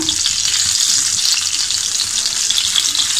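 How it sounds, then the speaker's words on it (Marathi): Stuffed bell peppers sautéing in a pan give a loud, continuous, bright sizzle and crackle of hot oil, with faint stirring movement underneath and no speech. "आता आपण जरा हिला अशी थोडी परतून घेऊया."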